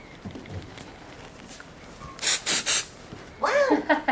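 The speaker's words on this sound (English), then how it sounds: "we're just gonna go with some spray" Three quick hissing bursts of grooming spray hit a West Highland White Terrier's coat in a grooming session, close and crisp, followed by a person speaking softly.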